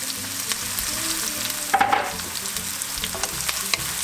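Vegetarian patty filling sizzles steadily in hot oil, a close, continuous crackling fry with occasional scraping stirs of a spoon through the pan.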